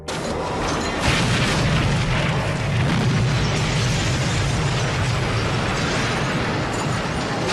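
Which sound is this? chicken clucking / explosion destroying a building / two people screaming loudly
explosion destroying a building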